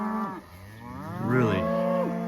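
Cattle moo loudly on a cold fall morning cattle drive at a farm, one long drawn-out low call followed by another rising bellow, close and clear with no talk.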